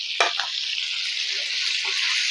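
Chicken pieces frying in hot oil, a steady bright sizzle throughout, with a sharp clink of a utensil at the start and a few soft stirring scrapes.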